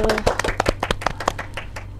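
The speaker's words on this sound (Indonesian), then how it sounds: "Kasih tepuk tangan dulu dong, please." Small group clapping for a guest presenter, a sparse, uneven patter of distinct hand claps close by over a low steady hum.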